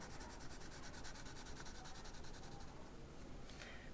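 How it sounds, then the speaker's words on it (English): Faint, steady rubbing of pencil shading across paper on a cylinder drawing, a soft continuous scratchy texture with light back-and-forth strokes. "shade in the side a little bit."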